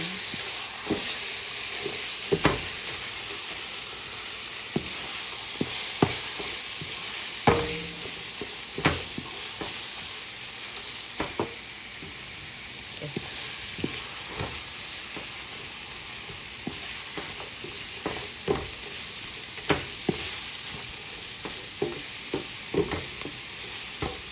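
Minced chicken fries in a pan with soy sauce, giving a continuous close sizzle with frequent sharp utensil scrapes and taps as it is stirred, and no talking.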